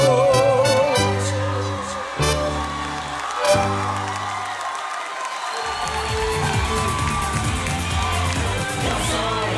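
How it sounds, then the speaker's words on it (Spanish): A studio audience at the Yo Soy singing show cheers, whoops and applauds for Pedro Fernández. Lingering musical tones fade out beneath the crowd, which stays lively and fairly distant throughout. "Fuerte el aplauso para nuestro Pedro Fernández."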